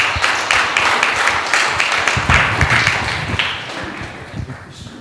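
An audience applauds a speaker named Chris at a live event, a steady wash of many hands clapping close and fairly loud, tapering off slightly toward the end.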